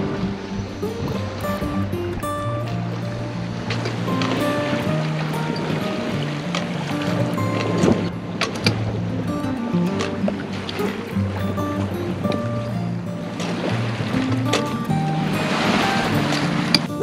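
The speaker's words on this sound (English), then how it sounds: "We have some nice wind now from behind." A sailboat runs through the water of the Norwegian archipelago with a following wind, giving a steady wash of splashing and hull noise plus creaks and small knocks, constant and close with no voices.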